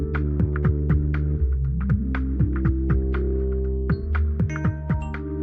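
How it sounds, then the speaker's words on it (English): A looped bass line holding whole notes, played back in Reaper, with deep sustained low tones shifting pitch slowly under a regular pattern of crisp clicking percussive hits, steady and fairly loud with no talking. "Now let's listen to what that bass is doing down there."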